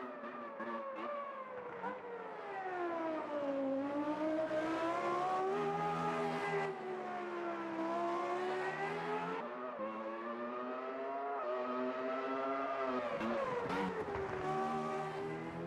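An early-1990s Formula 1 car engine in the Automobilista 2 racing sim screams continuously at high revs, its pitch rising and dipping through gear changes and corners over a long, unbroken run with no talking.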